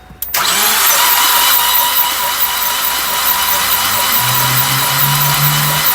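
A Ford Focus ST with a rebuilt 600+ horsepower engine cranks and fires up, then settles into a loud, steady running drone that rises slightly in pitch toward the end as the revs climb, with no talk.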